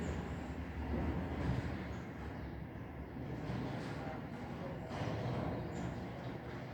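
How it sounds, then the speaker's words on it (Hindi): Train at Jaipur railway station: a steady, loud rumble of rolling carriages fills the whole stretch, broad and continuous with no clear breaks. "last scene 8 Jaipur railway station"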